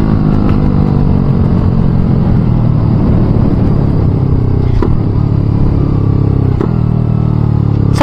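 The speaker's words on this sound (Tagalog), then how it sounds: "Sarap ng tunog ng rev match, boss." A motorcycle engine revs hard during a rev-match downshift, a loud, close, continuous roar with two sharp blips partway through, and no talking.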